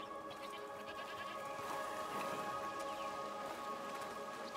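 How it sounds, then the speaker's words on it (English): Goats bleat in a rain-soaked outdoor setting in the video game A Plague Tale: Requiem, with a few calls rising over a steady hiss of rain and ambient music throughout. "What's over there? Goats!"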